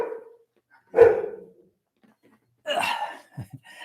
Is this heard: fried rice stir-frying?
no